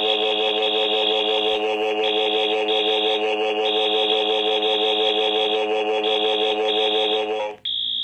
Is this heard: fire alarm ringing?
yes